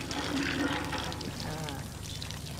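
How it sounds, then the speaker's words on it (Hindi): Water gushes and splashes steadily from a hand pump, pouring out in a continuous stream with faint background voices. "अच्छा पानी आ रहा है।"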